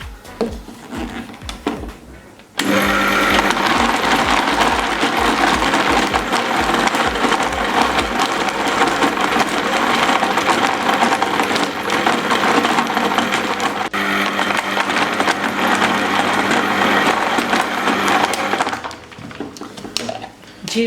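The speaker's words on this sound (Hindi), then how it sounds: "अब इसमें बर्फ़ ऐड करेंगे और 1 मिनट के लिए इसे भी ब्लेंड कर लेंगे।" Blender whirring through a banana milkshake with ice, starting abruptly and running loud and steady for about sixteen seconds before cutting off.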